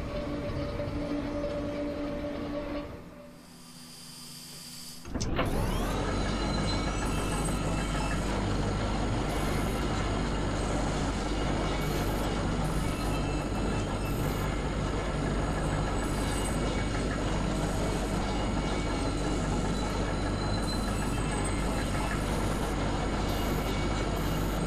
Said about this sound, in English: That's the highway. I think that's the zero. Do you hear that? Kind of a muffled rumbling.